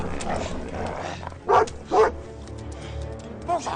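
A dog barks in a few short, loud bursts at close range, with several seconds between them, over a busy background of a dramatized scene.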